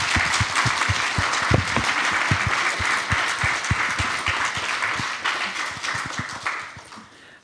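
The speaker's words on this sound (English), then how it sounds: "Thank you for that clap." Audience clapping for a panel at a regional health meeting, a dense bed of applause with strong individual claps up front that gradually thins and fades toward the end.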